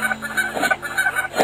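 Geese in the Endless Migration video game honk in a rapid, repeated flurry, loud and close over a steady tonal backing for a second and a half.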